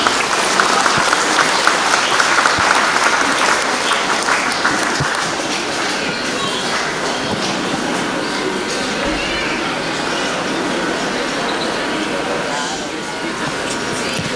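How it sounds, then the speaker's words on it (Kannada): An audience at a school annual day applauds students receiving medals, sustained dense clapping that is loudest at the start and continues steadily with a voice talking over it. "ಎಲ್ಲರೂ ಪ್ರೀತಿಯ ಚಪ್ಪಾಳೆಯ ಮೂಲಕ ಅವರನ್ನು ಅಭಿನಂದಿಸಬೇಕಾಗಿ ಮನವಿ"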